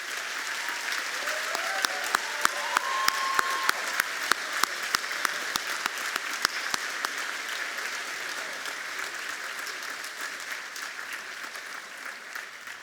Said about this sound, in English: I'd like for them to turn to the audience and receive your applause for their care and concern and their attention to our students' education